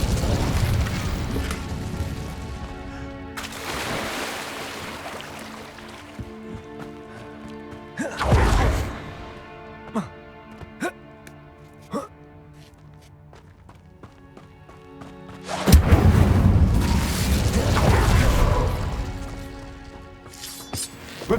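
Hogwarts Legacy Incendio fire spell bursts in several loud, booming whooshes, spaced well apart, with smaller thuds and footsteps between them against game music.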